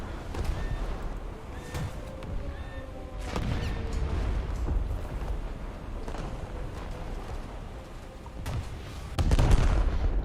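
Main turrets of the Japanese battleship IJN Kongo fire in a naval combat video game, with deep, rumbling booms spread over several seconds and a heavier salvo near the end over steady background noise.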